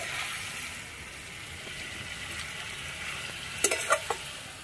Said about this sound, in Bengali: ফুলকপি আলু কষিয়ে কত সুন্দর রং হয়েছে তরকারিটা।